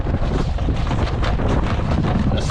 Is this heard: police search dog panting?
no